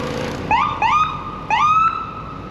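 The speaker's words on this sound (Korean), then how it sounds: "앰뷸런스" An ambulance siren on a Toronto street wails in three rising yelp bursts, loud and close over steady traffic hum, with no talking.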